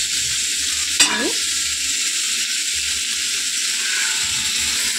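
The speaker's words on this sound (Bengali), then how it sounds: "তো বন্ধু এটা ভাজা হতে অনেকটা সময় হবে" Yard-long beans fry in a pan with a steady, close sizzle and hiss, a sharp scrape of stirring near the start, and no voices.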